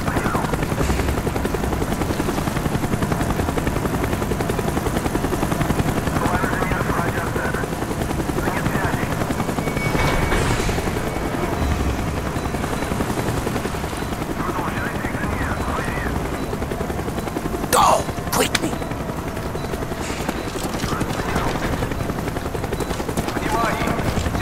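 Helicopter rotor drone from Call of Duty: Black Ops on Rebirth Island, a steady loud wash through the whole stretch, with gunfire bursts and game voices talking over it.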